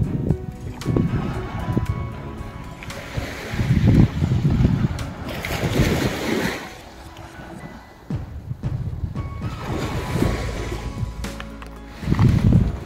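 Steady wind and low surf wash over an empty, untouched sea beach at Lalganj, with gusty rumbling swells rising and falling throughout and a few faint voices in the background.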